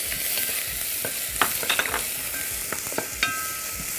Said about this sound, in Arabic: خلي السمنه سخنه جدا وبعدين طش عليها البصلايه دي